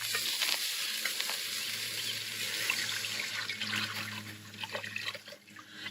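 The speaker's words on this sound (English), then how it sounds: "get them to a nice little boil." Onions in a pot of water come to a boil with a continuous bubbling, hissing wash of sound, fairly loud and close, with some faint clinks near the end.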